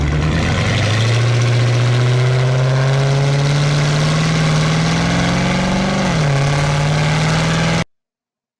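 Modded car engine in the Grand Theft Auto V game (a '2.0' engine sound) revving under acceleration: a loud, steady exhaust drone climbing in pitch for several seconds, briefly dipping as if shifting, then rising again, with no talking.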